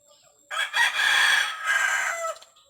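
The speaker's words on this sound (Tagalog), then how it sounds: "Okay, may manok po tayo." A rooster crows once nearby, a loud drawn-out call with a brief break in the middle, rising from near silence and trailing off at the end.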